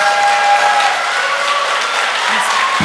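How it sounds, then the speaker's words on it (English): Steady, dense audience applause fills a school kindergarten celebration, a continuous wash of many hands clapping at moderate loudness with a faint voice near the end. "let's give one more round of applause to Miss Fisher's class"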